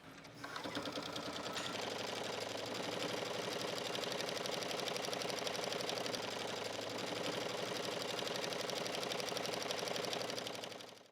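A sewing machine stitches a buttonhole on a shirtdress, running at a steady, fast, continuous mechanical rattle close by after a brief start, then stopping at the end.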